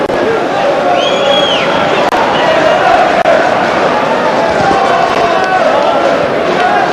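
Home fans at a Celtic testimonial match for Tom Boyd against Manchester United, a steady loud roar of crowd cheering and whistles filling a large stadium, with a commentator talking over it.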